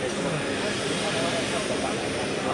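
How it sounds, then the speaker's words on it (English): Engines of an Airbus A400M military transport moving into position at the Paris Air Show make a loud, sustained propeller drone that stays dense and even throughout. "A400M moving into position."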